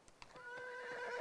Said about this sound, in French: La jument alezane que j'utilise pour la compétition a 9 ans.